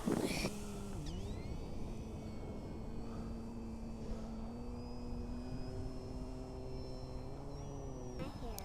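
An electric motor on a 3D printed Eclipson APEX RC glider whines steadily after being throttled up, a thin rising tone that holds over constant wind and outdoor hiss, moderately distant.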